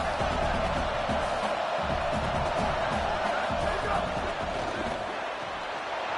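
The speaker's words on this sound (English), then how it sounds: "This crowd rising up, sensing that its defense needs some help." A stadium crowd at a Clemson football game roars and rises in a dense, sustained wash of cheering, with a commentator talking over it.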